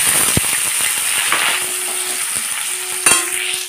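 Onions fry in hot oil with a bay leaf in a wok, a steady, close sizzle broken by sharp metallic clinks and scrapes of a utensil.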